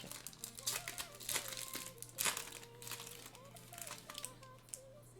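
A wrapped pack of F1 2021 trading cards crinkles and tears open, quiet irregular crackling bursts of wrapper plastic handled close by, with a faint steady hum underneath.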